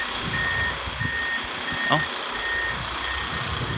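A motor grader in Hua Hin, Thailand, sounds its reversing alarm: a steady string of evenly spaced high beeps, about five, over a low idling engine rumble.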